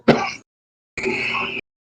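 A person imitates a character coughing, giving two short, harsh, raspy coughs close up with a brief pause between them.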